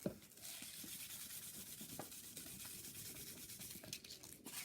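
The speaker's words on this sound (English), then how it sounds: "So I take a coarser sandpaper, kind of go through where I want it to be." Coarse sandpaper rubs back and forth over old world finishing paint on a piece of furniture, giving a continuous, fairly quiet scratchy rasp with a steady stroking rhythm.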